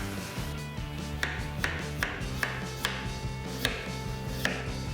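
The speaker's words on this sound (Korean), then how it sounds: "감자는 우선 잘라서 슬라이스로 썰겠습니다" A knife slices potatoes steadily on a cutting board, several sharp even strikes in a loose rhythm, close by, with a low hum in the background.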